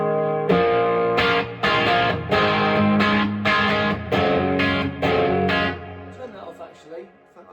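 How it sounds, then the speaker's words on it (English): Electric guitar with overdrive and boost on, strumming a series of sustained distorted chords with a rhythmic pattern, ringing out and fading at the end. "this is just guitar, overdrive, oh, boost on still"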